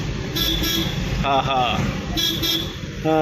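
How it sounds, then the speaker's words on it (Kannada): A newly fitted vehicle horn sounds in a few short, bright toots, one near the middle and another at the end, over nearby traffic rumble and voices talking. "ನಿಮಗೆ ನಾನು ಹಾರ್ನ್ ರೆಡಿಯಾದ ತೋರಿಸ್ಲಿಲ್ಲಲ್ಲ, ಈಗ ನೋಡಿ."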